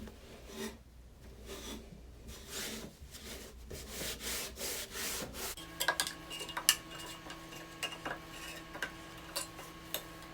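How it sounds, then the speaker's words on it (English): A microfiber cloth wipes down a wooden floating shelf, giving soft, uneven rubbing strokes close by, with light scrapes and faint knocks in the second half. "So you want to take like a microfiber cloth and then just wipe this down."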